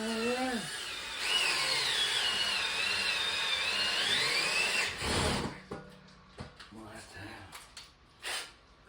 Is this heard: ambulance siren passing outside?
no